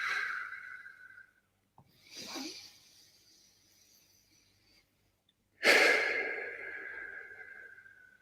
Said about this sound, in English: you're conscious, aware of you breathing in air and out air.